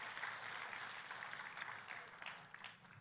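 A church congregation applauds during a sermon, a steady wash of clapping that sounds moderately distant and holds evenly for about three seconds, with no speech over it.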